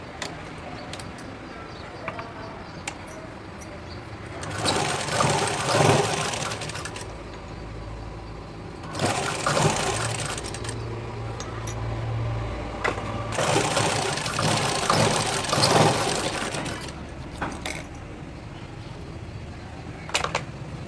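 An electric sewing machine stitches a blouse waistband in three long whirring runs separated by quiet pauses. The motor hums loudly and close, with a faint voice and light handling noise in the gaps.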